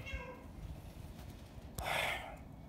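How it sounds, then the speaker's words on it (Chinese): A fully grown cat trapped down a deep light well lets out a faint, distant meow, followed by a brief breathy burst near the end. "哎呦，这猫挺大的了，那不是小猫。"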